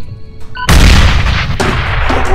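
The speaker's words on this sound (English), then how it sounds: "Jake, I got a grenade of my own." Fortnite grenade explosion: short tonal game chimes, then a sudden loud boom that rolls into a long rumbling blast with debris crackle, followed by a second burst, no talk.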